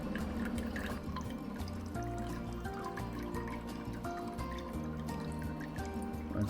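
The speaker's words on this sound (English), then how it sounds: "Pinch the tube, pull it out the little telltale, and you can drain the water out." Water drains through a small pinched tube from an EcoFlow Glacier portable cooler, a continuous trickling, dripping stream with faint liquid splashes, steady and close throughout.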